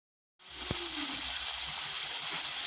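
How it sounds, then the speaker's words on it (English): Irish potatoes deep frying in hot oil, a steady, dense sizzle that starts abruptly and holds at an even level throughout, with no talking. "I'll just deep fry them bit by bit until I am finished with all these"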